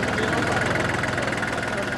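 A small 3-cylinder tractor engine idles close by, a loud, steady, even low chugging with no pauses and no voices.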